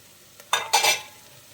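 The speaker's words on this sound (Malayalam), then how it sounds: "സവാളയും പച്ചമുളകൊക്കെ ഒരുവിധം ഒന്ന് വാടിക്കഴിഞ്ഞാൽ നമ്മൾ എടുത്ത് വെച്ചിട്ടുള്ള ഇഞ്ചി ചതച്ചത് ചേർത്ത് കൊടുക്കാം." Sliced onion, green chilies and crushed ginger for mutton curry sauté in a pan, heard as two short bursts of sizzling and spoon stirring against a quiet background, near and without talk.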